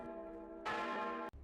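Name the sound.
church bells tolling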